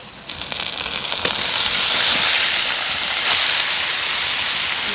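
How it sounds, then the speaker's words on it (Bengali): Onions frying in a pan for mutton curry give a loud, close, steady hiss and sizzle that swells after the first second and holds, with no voices. "পেঁয়াজগুলো ভালো করে বাজিয়ে নিছি"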